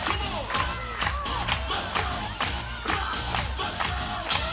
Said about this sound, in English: Crowd's getting into it a little bit.